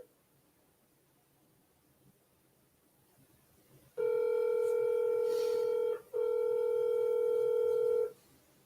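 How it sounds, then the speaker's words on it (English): Telephone ringback tone on an outgoing call while waiting for an answer: a steady loud tone starts after four seconds of quiet, breaks briefly, then sounds again for about two more seconds. "we're just gonna leave that dialing on here while I'm waiting"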